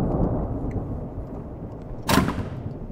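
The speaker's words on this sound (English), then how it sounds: "Oh, the thunder's starting!" Thunder in a homeless simulator video game: a low rolling rumble runs throughout, then a sharp, loud crack bursts out near the end.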